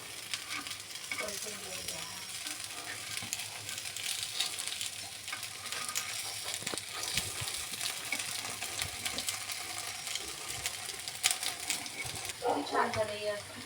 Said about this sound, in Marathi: आता आपण हे छान लाल ब्राऊन होईस्तोवर तळून घेऊया